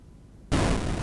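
A sudden loud explosion bursts in RuneScape after a tinderbox lights a compound placed on bricks at the Digsite, a single broad blast that cuts in from near silence and holds as a roaring rumble.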